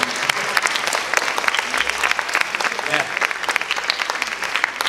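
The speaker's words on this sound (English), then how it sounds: "Great applause for these 3 volunteers" An audience at a science competition final claps for three volunteers heading to the stage, a lively, crowded burst of applause with sharp individual claps, while a voice briefly speaks over it.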